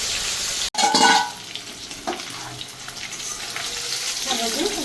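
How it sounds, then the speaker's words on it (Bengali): Pieces of katla fish fry in hot oil with a loud, close, bubbling sizzle that swells briefly after a stir, then settles into a steady hiss. "আমি এই কাতলা মাছটাকে একটু ভালো করে ভেজে নেবো"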